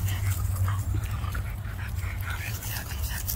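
Young puppies panting and giving small whimpers, close by and fairly steady, with a low background hum underneath and no talking.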